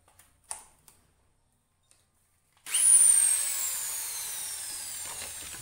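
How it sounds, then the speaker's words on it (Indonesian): A power drill bores holes into PVC pipe for a homemade water filter. A few light taps come first, then the drill starts abruptly and runs as a steady, loud whirring grind through the rest of the clip. "kita tunjukkan cara melubanginya menggunakan alat bor"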